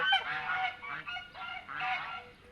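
Loud honking calls from ducks at a zoo, a few repeated nasal bursts close by, overlapping one another.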